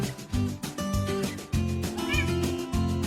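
A cat meows several times over loud, steady background music, its cries rising above the melody in short, drawn-out calls.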